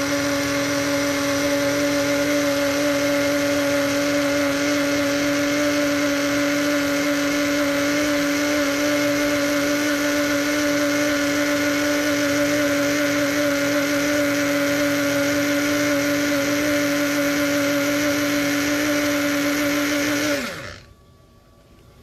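A kitchen blender whirs loudly and steadily while mixing natural face mask ingredients, a constant motor whine with a high, even pitch that runs unbroken before winding down abruptly at the end.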